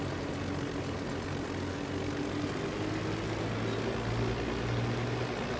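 A Dornier flying boat's propeller engines drone steadily in Microsoft Flight Simulator as it approaches a narrow river to land. The hum is even and continuous, with a low throbbing tone and no voices over it.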